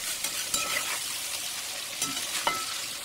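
Plov with beef being stirred in a pot, a steady sizzling fry broken by a few clear scrapes of the spoon against the metal, close and continuous with no talking.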